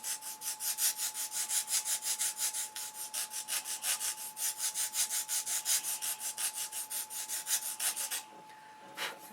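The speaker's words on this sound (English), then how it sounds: "here's my square that I have a piece of sandpaper on" Sandpaper fixed to a square scrubbing wood in steady back-and-forth strokes, about four per second, close and even for eight seconds before stopping, with no talk.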